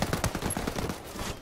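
Rapid bursts of gunfire crackle through a competitive shooter match, dense overlapping shots with a brief high ping, steady and loud throughout.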